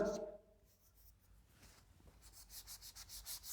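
Faint scratchy rubbing of writing on a classroom board during a maths lesson on surface area, soft strokes that grow more distinct toward the end, with a voice briefly present at the start.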